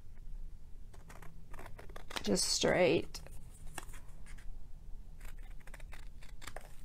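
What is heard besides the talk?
scissors cutting off a strip of paper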